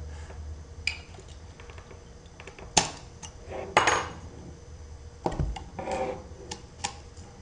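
Scattered metallic clicks and taps of a pin being pushed out of a handgun, a few sharper knocks among quieter ticks, no talking.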